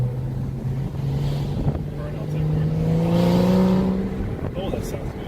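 A supercar engine drones at steady revs, then climbs sharply in pitch as it rev-matches on a downshift before falling back, heard from inside the car under heavy wind buffeting.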